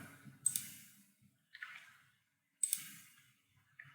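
A computer mouse clicks a few times in a quiet room, with crisp, close clicks spaced about a second apart and a fainter tap in between.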